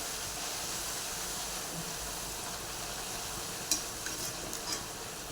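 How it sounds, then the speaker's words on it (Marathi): Dal pakwan deep-frying in hot oil in a kadhai over a low flame, giving a steady close hiss and sizzle with a few faint clinks near the end and no talking. "त्यासाठी तेल गरम करत ठेवलं आहे कढाईमध्ये आता एक एक करून आपण सोडून गॅस कमीच ठेवायची"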